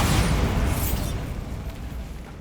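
A Bombarda blasting spell from the Hogwarts Legacy video game goes off as one loud, close boom that rolls away into a fading rumble.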